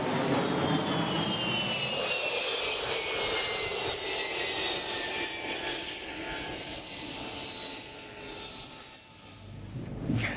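Jet fighter aircraft engine roaring overhead, a loud broadband rush with descending whine tones as it passes, steady for several seconds and then tailing off, with no talking.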